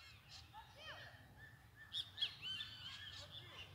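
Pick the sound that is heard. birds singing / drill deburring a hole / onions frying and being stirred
birds singing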